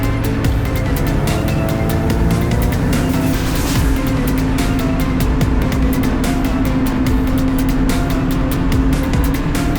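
Race car at full throttle on a track during a racing school session, a steady loud engine drone from onboard with a surge of other cars passing around the middle and no talk.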